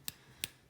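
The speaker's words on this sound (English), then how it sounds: "the tip of the stick touching my palm." A drumstick tip taps against a palm during pad-sticking practice, two soft, sharp clicks spaced apart, faint and close against a quiet background.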